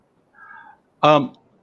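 A cat meowing twice at close range: a soft, faint first mew followed by a louder, fuller meow.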